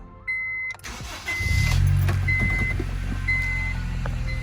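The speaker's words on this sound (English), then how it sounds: "So yeah, so whenever I start the car" A 2002-2005 Honda Civic Si with a P1106 fault code starts: a short starter crank, then the engine catches and settles into a loud, steady, high idle near 2,000 rpm.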